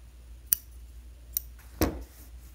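Scissors snip fabric while trimming a sewn pillowcase, three sharp separate cuts spaced apart over a quiet room background, with no voices.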